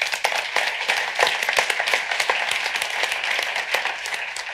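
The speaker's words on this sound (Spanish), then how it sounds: "le vamos a dar un aplauso a Nuria Pizarro, por favor" An audience at a talk on young people and social media applauds a speaker, with distinct, lively claps close by, rhythmic and fairly loud, and no talking over them.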